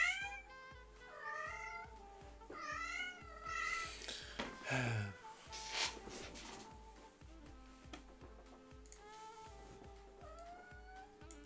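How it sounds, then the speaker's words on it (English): Cat meowing indoors, several drawn-out meows spaced through the passage with a brief caterwaul in the middle, moderately loud over a faint regular ticking background. "it's the cat on the background"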